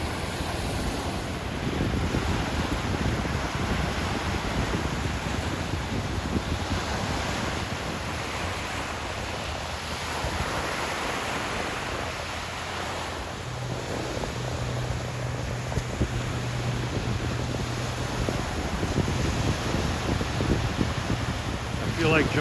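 Steady wash of Lake Erie surf lapping over seaweed near the shore, a continuous broad rush mixed with wind buffeting the microphone and no clear breaks between waves.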